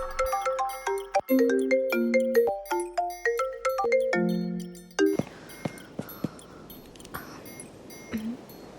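A phone ringtone plays a bright, bouncy melody of chiming notes, then gives way to softer jingling sounds.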